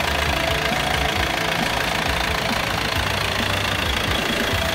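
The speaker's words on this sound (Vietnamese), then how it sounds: "Đây là động cơ." Diesel engine of a Vinaxuki 2.5-ton dump truck with a four-cylinder turbocharged motor idling close by, a steady, rough knocking rumble that holds unchanged throughout.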